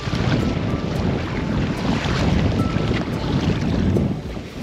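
Steady wind buffeting and wave wash on open water off Qatar, heard from a fishing boat during jigging; a continuous broadband roar with rumbling low end and faint slapping, no voices.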